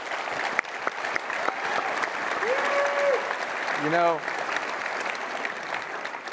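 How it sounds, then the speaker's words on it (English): Applause from a crowd fills the clip, steady and moderately loud, with a voice talking over it and a brief tonal whistle-like sweep partway through. "Let's give both a huge round of applause."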